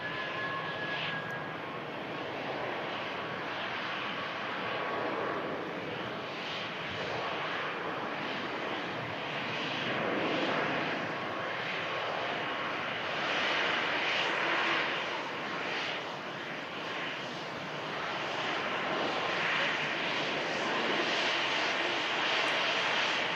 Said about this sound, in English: Beautiful Iberia Express arriving in from Madrid after an exactly 2-hour flight.